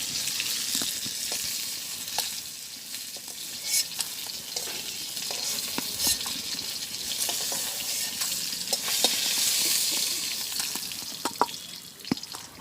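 Hilsa fish frying in oil in a pan in a village kitchen, a steady close sizzle with occasional stirring clinks and scrapes throughout.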